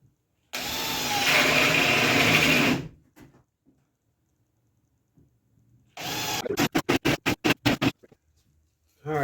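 A cordless drill bores holes in a board for fishing pole holders: one sustained whirring run of about two seconds, a pause, then a longer burst followed by a series of short, rapid trigger pulses.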